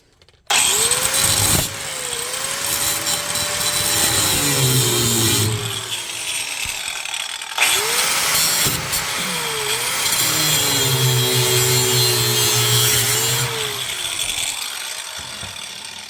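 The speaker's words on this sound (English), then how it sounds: "I'm just going to cut this sleeve and open it up and remove it here." A power cutting tool slices through the outer tie rod sleeve on a Toyota T100 with a 3.0 engine, two long loud grinding bursts with whining pitch changes separated by a short pause, and no speech.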